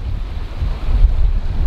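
A sailboat running fast under a Code 0 sail through an archipelago in moderate breeze, heard as a steady, loud rush of wind buffeting the microphone over low water and hull noise, with no voices.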